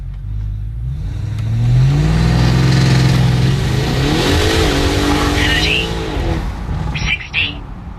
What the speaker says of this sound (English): Yes, we are doing all of our draggy runs uphill.